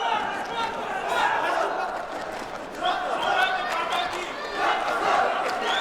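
Fans in an arena crowd shout and roar during a boxing match, their loud surging cries rising and falling in waves while a commentator talks over them.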